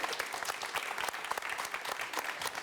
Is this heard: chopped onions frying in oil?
no